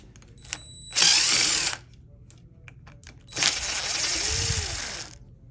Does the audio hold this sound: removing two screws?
yes